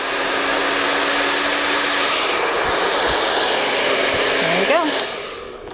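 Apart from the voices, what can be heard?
hair dryer blow-drying hair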